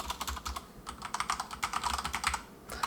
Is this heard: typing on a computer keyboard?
yes